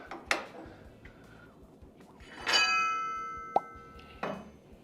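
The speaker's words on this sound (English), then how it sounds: "So now we're going to pluck these U-bolts." Metal U-bolts from a 1956 International COE truck's rear suspension are plucked a few times, each giving a bright ringing ping that lingers and fades, separated by quiet pauses.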